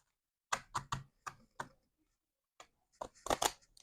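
Several quick, crisp riffling and tapping sounds of tarot cards being shuffled, in two short bursts separated by a pause, close and quiet.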